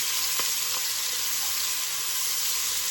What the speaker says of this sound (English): We're sauteing this onion in the grease from the bacon.